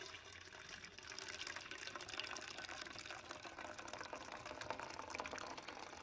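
Home-brewed tea, simmered a good while, poured into a cup: a continuous close liquid splash and trickle running steadily throughout, fairly quiet, with no talking.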